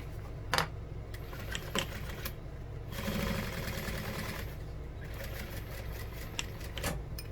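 A sewing machine top stitches a bag seam, its motor whirring in a steady close burst with light clicks and handling taps before and after.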